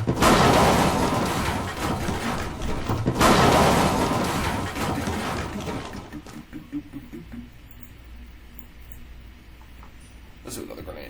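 A grenade goes off in an Unreal Engine 4 game with a loud broadband blast, a second burst follows, and the rumble then dies away into quiet clinks and debris.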